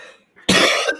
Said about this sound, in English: I still haven't recovered this cough